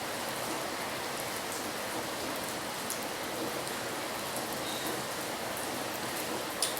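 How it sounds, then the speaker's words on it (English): Rain bouncing off outdoor surfaces, an even, continuous hiss with scattered drop patters, moderately soft and steady throughout, with no voices. "Bouncing rain."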